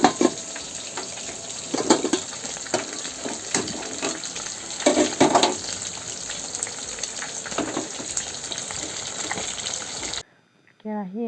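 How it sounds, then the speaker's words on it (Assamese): Onions and five-spice sizzling in hot oil in a wok over a gas flame, a steady frying hiss with clatters and stirring scrapes, then a brief quieter moment near the end. "কেৰাহী এখন লৈ ইয়াতে তেল অলপ দি পিনি পাঁচফোৰণ অলপমান, পিঁয়াজ অলপমান ৰঙচুৱা হোৱালৈকে ভাজি ল'লোঁ।"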